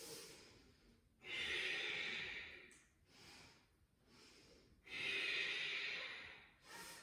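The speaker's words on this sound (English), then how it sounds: "Pausing where you're feeling stretching sensation, deep ujjayi breaths" Deep ujjayi breaths in a gentle yoga twist: long, loud, breathy hisses close to the mic, two big drawn-out breaths with softer, shorter ones between, no talking.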